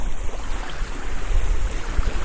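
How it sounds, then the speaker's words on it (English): Waves rolling in on Lake Hartwell during a summer kayak outing, heard as a steady low rumble of wash and wind buffeting the microphone, with no distinct individual breakers and no talking. "the waves coming in, you won't be able to see anything."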